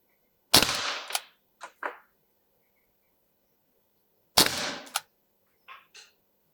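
Shots from a Webley MKVI replica CO2 service revolver at a range: sharp cracks with short metallic clicks and rattles between them, in two separate bursts, with no voices over them.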